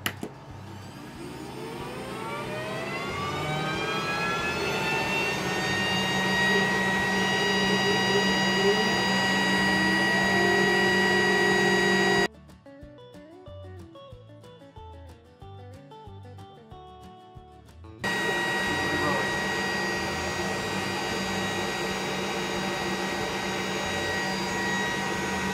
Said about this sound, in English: There's fans in here that start pulling all the smoke and that out